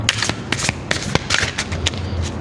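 Tarot cards shuffled by hand, a close, continuous papery riffling with quick soft slaps and flicks for a couple of seconds, no voice.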